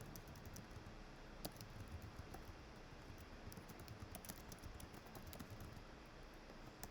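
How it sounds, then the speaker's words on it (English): Steady typing on a computer keyboard, a soft continuous patter of key clicks at low level throughout, with no talking. "I'm just typing in."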